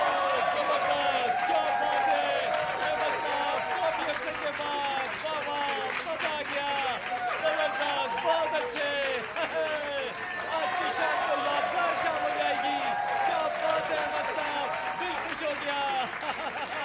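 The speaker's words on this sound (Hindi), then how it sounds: "आप लोगों की पुरजोर तालियों में मैं दावत देता हूं यहाँ हमारे अहमद भाई को।" A stage audience claps steadily to welcome a guest, the applause dense and sustained throughout with crowd noise mixed in.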